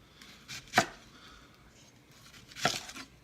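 Two sharp knife chops through onions on a cutting board, spaced a couple of seconds apart, with quiet handling sounds in between.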